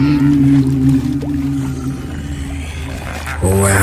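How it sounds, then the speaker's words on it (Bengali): Cartoon wailing of countless ghosts over a haunted river as a boat drifts midstream: long, low, droning moans that swell and overlap steadily, with a fresh wail rising near the end. "অসংখ্য অশরীরীদের আর্তনাদ ওটা"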